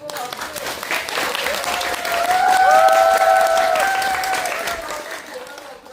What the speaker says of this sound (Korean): 우리 감독님 배우님께 다시 한번 최고 박수.